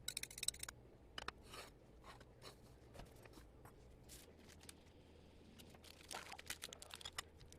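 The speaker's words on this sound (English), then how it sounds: "The lettuce, yeah, yeah, yeah. Yeah. Cut the lettuce. Cut it." A knife cutting lettuce, faint quiet crisp cuts and scratchy slicing strokes tapping irregularly over a low steady hum, close and soft.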